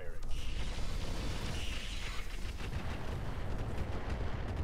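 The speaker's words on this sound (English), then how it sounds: "Might as well use the rockets now." Rocket salvo fired from a mech in the BattleTech game Roguetech, a dense continuous roar of launches and blasts with rumbling low end, steady and loud throughout, with a voice speaking over it.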